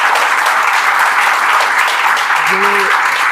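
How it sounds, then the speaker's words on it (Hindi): An audience breaks into steady applause, many hands clapping in a dense, even wash that holds at full strength throughout, with a brief voice surfacing near the end. "ताली बजा दी यार।"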